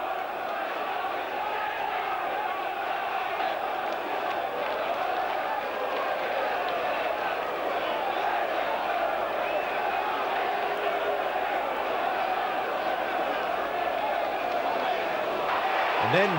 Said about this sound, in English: Unfortunately, the big crowd spilled onto the pitch.